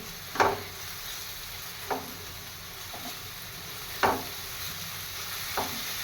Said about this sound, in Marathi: व्यवस्थित असं मी हे छान परतून घेते मसाला परतून होईपर्यंत